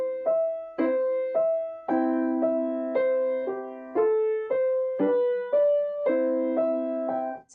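Solo piano playing Hummel's Ecossaise at full speed, hands together, in a Suzuki piano lesson: crisp, evenly spaced chords and bright melody notes in a brisk rhythm, close and clear with no talking.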